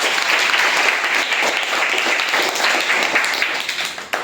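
Schoolchildren at a primary school quiz clap steadily for a classmate, a loud, continuous patter of many hands sustained for several seconds with no talking.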